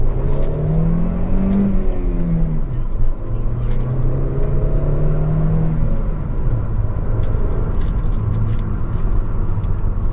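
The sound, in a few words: Kia Carens Clavis turbo petrol engine revving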